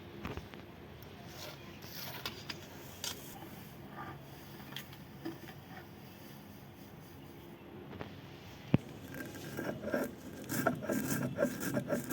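Sun-dried spices are ground into powder for mango kasundi, giving a low, steady scraping and rasping grind that runs faint throughout and grows a little busier toward the end, with no talk.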